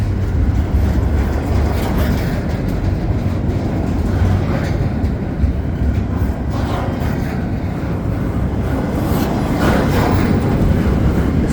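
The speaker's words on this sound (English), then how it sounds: "This is my first CP train in a very long time here at Dorval" A CPKC intermodal freight train rolls past at Dorval on a cold winter night, a loud, continuous rumble of wheels and cars close up with no break over the whole stretch.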